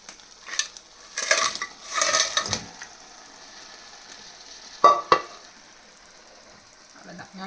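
Crab pieces are stirred through a masala gravy in a pan, with clattering scrapes and bursts of sizzling in uneven clusters, then quieter frying and a pair of sharp knocks from the utensil.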